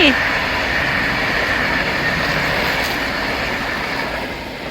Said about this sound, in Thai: รถไฟมาพอดี